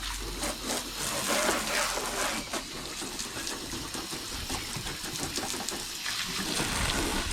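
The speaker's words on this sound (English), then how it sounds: "I always give my rinse off, get the worst of the salt water off from" Water from a hose sprays steadily over a Yamaha F/FL 200 outboard engine to rinse off salt water, a continuous hissing splash with small shifts in intensity and no voices.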